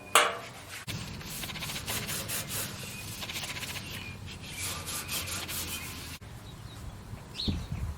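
A cloth rubs and buffs wax onto a rusty metal lawn chair, a continuous close scratchy swishing with a rhythmic back-and-forth texture, pausing briefly partway through, with faint bird calls in the background.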